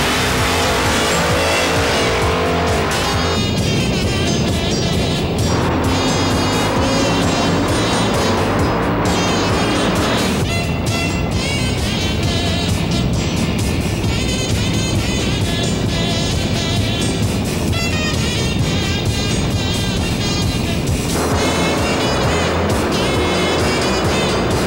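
Drag racing cars thunder down the strip at an old-time drags meet at Englishtown Raceway Park, loud continuous engine roar rising and surging as the cars accelerate, with no talk over it.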